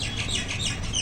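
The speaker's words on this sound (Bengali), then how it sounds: "ওই যে শালিক পাখি ডাকছে" A common myna calls nearby from its nest, giving a quick run of bright, rising chirps and squawks over a low background hum.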